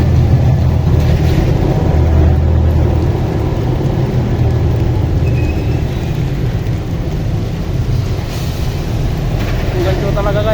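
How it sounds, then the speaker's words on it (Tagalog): Steady storm rain keeps up a dense, continuous hiss and patter through the whole stretch, with low rumbling underneath and faint voices mixed in. "Ganito talaga guys pag may bagyo, tiis talaga, may mga ulan."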